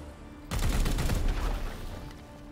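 A sudden dense burst of gunfire in the tactical game Warhammer 40k Chaos Gate - Daemonhunters cuts in and rattles loudly, then fades into a lingering rumble, with no voices.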